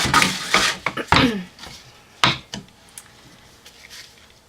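Knife strokes cut through a loaf of cold process soap with star embeds, several scraping, rasping passes with a few sharp knocks and a quieter stretch of fainter scrapes toward the end.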